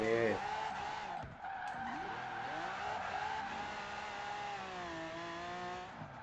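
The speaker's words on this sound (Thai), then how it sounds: "เสร็จมามุมนี้ปุ๊บเราดึงเบรกมือ ดิฟมาเลย" A car in Forza Horizon 4 yanked into a handbrake drift through a corner: engine revs climb and dip while tires squeal and skid across several seconds, close and sustained, with someone talking over it.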